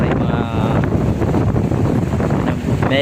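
Strong wind buffets the microphone over the steady churn of rough Pacific Ocean waves around a tuna fishing boat, loud and continuous throughout.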